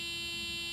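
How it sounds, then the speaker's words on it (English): A fuel pump in a Mercedes W124 with the M103 engine runs with the key in accessory mode, giving a steady, faint electric hum with a buzzing edge, continuous and unchanging throughout. "at this point your fuel pumps are working and pumping fuel through the fuel pressure regulator into the bottle"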